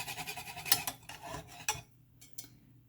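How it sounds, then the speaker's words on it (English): A spoon scrapes and clinks against a pot while stirring a thickening dairy-free sauce for a vegan Brussels sprout au gratin that is starting to stick to the bottom, with sharp knocks and irregular scraping that fade toward the end. "you got to keep stirring because it's starting to stick to the bottom"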